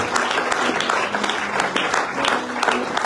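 A church congregation claps together in a sustained burst of applause, dense and fairly close, with scattered voices mixed in throughout.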